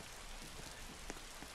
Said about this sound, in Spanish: uy, la lluvia está potente.